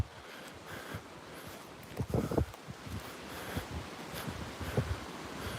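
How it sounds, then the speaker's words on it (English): Wind rushes through forest trees with steady rustling, branches creaking overhead, and a few louder gusts and thumps of buffeting, continuous and outdoors. "I can hear branches creaking above my head in this wind."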